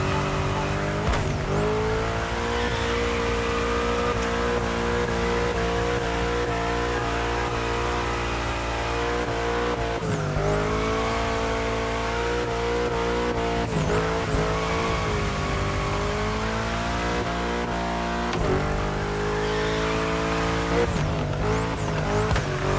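Video-game car drifting through bends in The Crew Motorfest, a loud engine droning and revving continuously while tires squeal in long sweeping pitches, close and sustained, no talking.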